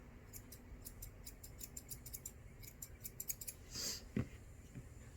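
Scissors snip fur on a dog's legs during a tidy-up trim: a quick run of close, crisp, light clicks, then a brief rustle and a couple of soft knocks, with no talk.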